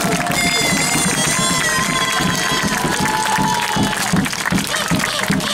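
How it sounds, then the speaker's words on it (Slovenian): A crowd at an American football game between the Ljubljana Silverhawks and Budapest Wolves applauds and cheers in a loud, continuous roar with whistles and shouts. Voices are also heard. "Aplavz za naše fante."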